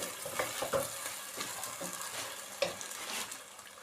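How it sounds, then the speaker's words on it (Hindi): Chicken breast fries with onion, garlic and ginger in a pan, a soft steady sizzle with occasional stirring scrapes and brief pops, quiet and close with no talking. "इसको हम प्याज और लहसुन अदरक के साथ अच्छे तरीके से फ्राई करेंगे"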